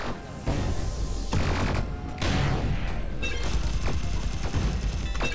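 Ion cannon weapon blasting in the space shooter Sublevel Zero, loud dense bursts of energy fire with sharp booming onsets roughly every second, mixed with game effects and no talk.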